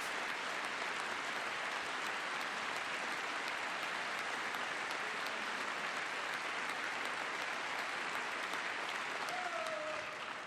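Sustained applause from an audience during a presidential speech to Congress, dense steady clapping filling the room for the whole stretch, with a faint voice underneath near the end.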